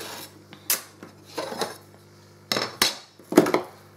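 A metal necklace chain being cut and handled, giving several sharp metallic clicks and snips spread over a few seconds, close and distinct with no talking.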